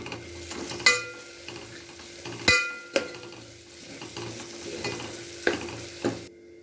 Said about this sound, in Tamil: நல்லா நல்லா கிண்டி விடுங்க நல்லா அடி பிடிச்சிடும்